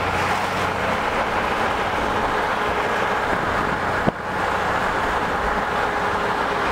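Porsche 911 driven home at night, a constant road and engine drone heard from inside the car with steady tyre roar and one brief knock partway through, no talk.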